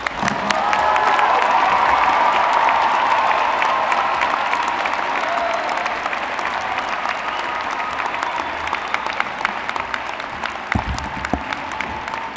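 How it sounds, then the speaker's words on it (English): An audience at a 2019 midyear commencement ceremony gives the graduates a sustained round of applause, dense clapping that fills the hall and slowly tapers off, with a few scattered cheers. "How about one more round of applause for every graduate?"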